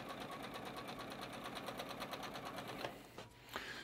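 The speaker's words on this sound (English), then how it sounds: "I'm just going to drop my foot and my needle right on that drawn line there and sew right across" A home sewing machine stitches straight across a drawn line on batik quilt fabric, a steady rapid mechanical whir with even needle pulses close by, slowing and stopping near the end.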